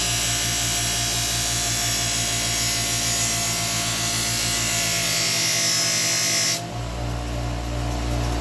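Modified bench grinder fitted with a buffing wheel sharpening a blade, a steady high whirring hum held throughout, close and loud, with a slight change in tone near the end; no talk.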